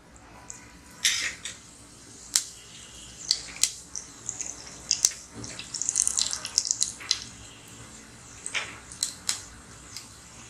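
Mustard seeds spluttering and popping in hot oil in a pan, a scattered run of sharp crackles and pops at irregular intervals, close and fairly quiet.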